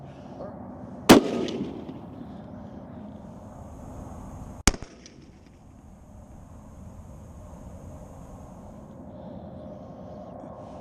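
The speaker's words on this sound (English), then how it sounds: "So without further ado, let's go ahead and shoot." Two sharp, loud rifle shots crack out several seconds apart at an outdoor shooting range, each with a brief echoing tail over a low background hiss.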